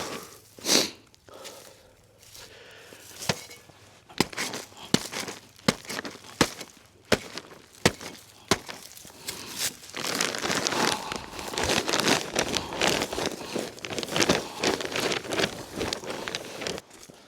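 Crinkling, rustling and scraping as plastic vinyl and fallen leaves are pulled from a farm ditch, close by. Sharp crunches and clicks come at first, then a denser, steady rustle.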